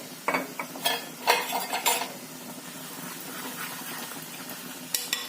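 A spoon clinks and scrapes around a small pan of sizzling oil with chilli powder, a spice tempering for moong dal, a few sharp metallic taps early, then soft steady frying.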